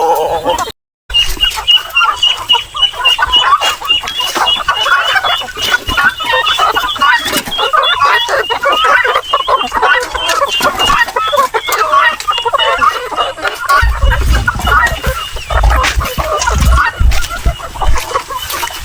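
Native chickens on a farm cluck continuously while being fed, a busy close-range chorus of clucks with people talking over it.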